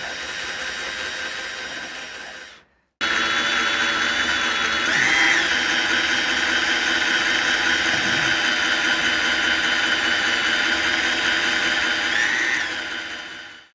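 A hand-held power drill whines steadily at close range, cutting out briefly near the start and then running continuously with slight pitch shifts under load, on a Beneteau 423 sailboat afloat.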